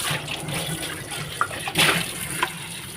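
Tap water runs steadily while monsoon-season spinach is rinsed, a close, continuous rush with a few brief splashes and knocks, and no one speaking.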